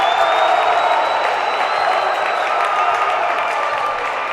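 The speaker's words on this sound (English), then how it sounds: "let you hear the crowd here with this one. They're going wild on that one." A basketball crowd at a York versus Tabor college game roars wildly after a reverse alley-oop dunk, a dense, sustained wall of cheering and clapping with no pause throughout.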